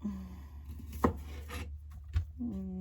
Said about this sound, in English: I like to trim the broccoli just a little bit